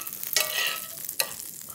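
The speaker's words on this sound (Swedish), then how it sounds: "Jag väntar antingen att smöret börjar bli lite brynt innan jag brer ut den hackade löken." Butter browns in a frying pan with a steady, soft sizzle, broken by two sharp clinks of stirring.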